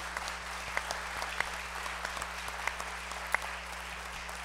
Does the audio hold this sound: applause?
yes